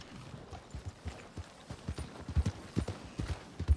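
A horse's hooves clip-clop in a steady walking rhythm in Red Dead Redemption 2, fairly close and growing slightly louder, with no one speaking over them.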